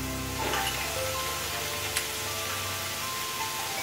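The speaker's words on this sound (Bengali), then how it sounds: "এবার এর মধ্যে আমরা পোস্ত বাটাটা অ্যাড করছি" Potatoes frying in a pan as poppy seed paste goes in for aloo posto, a steady close sizzle with faint stirring and a brief scrape near the middle, no talk.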